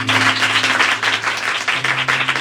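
A church congregation claps steadily, the hand claps loud and close, with a low hum running beneath them.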